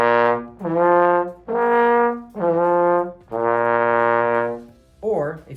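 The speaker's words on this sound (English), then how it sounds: "you can put your mouthpiece into the trombone, and using your slide, it should sound like this." A trombone is played with its slide, giving five sustained, loud notes one after another with brief gaps, then a short rough blip at the end, heard alone up close.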